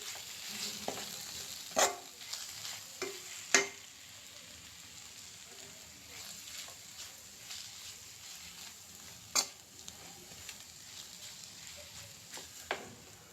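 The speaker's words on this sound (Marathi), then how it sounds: "बटाटा आपण पुन्हा असं हलवून घेऊ एकदम मस्तपैकी" Potatoes roasting in a pan are stirred, with a low steady sizzle broken by sharp scraping and clattering strokes of a spoon at irregular intervals.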